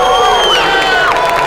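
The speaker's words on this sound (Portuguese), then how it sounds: "Torcida empolgada." A packed crowd at a community combat fight event in a samba school hall cheers loudly, with high excited shouts and whoops rising and falling close by without pause.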